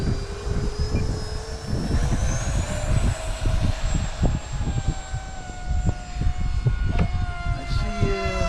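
A Vulcan 6S model airplane launches and flies in the rain, its engine whining loudly and continuously with a rising, shifting pitch, close and steady throughout.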